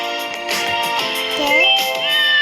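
A cat gives a couple of short meows over steady background music.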